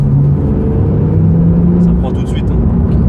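A Porsche 911 of the 992 generation pulls hard at full throttle in third gear, a loud, close, steady engine roar heard from the cabin with people talking over it.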